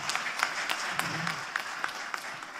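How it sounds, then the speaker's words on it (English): Scattered applause from a judicial conference audience for a judge. It is fairly faint and thin, with individual claps standing out over a low murmur and a brief voice underneath. "Please give a big round of applause to the judge."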